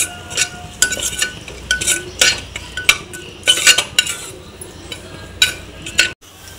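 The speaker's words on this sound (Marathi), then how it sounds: "आणि घरगुती मालवणी मसाला 2 चमचे आणि चांगलं ढवळून घेऊया" A spoon scrapes and clinks against a metal pan as a spiced gravy for white pea usal is stirred with homemade Malvani masala. The clatter comes in loud, irregular strokes close by, over a faint sizzle, and stops briefly at the end.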